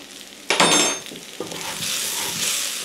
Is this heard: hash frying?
yes